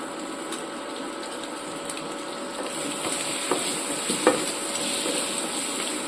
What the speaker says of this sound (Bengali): গরম তেলের মধ্যে আলুগুলো ভালোভাবে ভেজে নিচ্ছি।